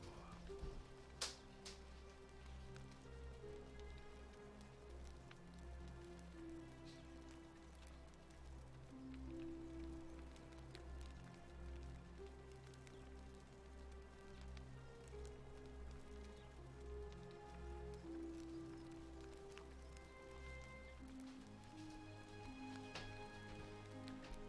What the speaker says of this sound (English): the weather here is very rainy and a little windy, so it always has a tendency to make some odd noises